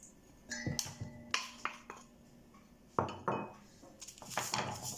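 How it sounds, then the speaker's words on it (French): A spoon clinks and scrapes against a dish in a string of sharp, close taps and clatters as butter and sugar are mixed together for chocolate cookies. "Mélanger le beurre avec le sucre."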